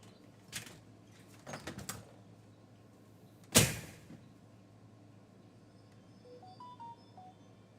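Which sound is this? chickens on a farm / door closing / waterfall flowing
door closing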